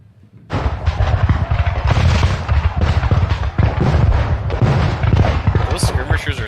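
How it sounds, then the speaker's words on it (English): In a Waterloo war video game, musket gunshots and artillery fire crackle and boom in a dense, continuous barrage after a short quiet opening, loud and close throughout. "I hear gunshot."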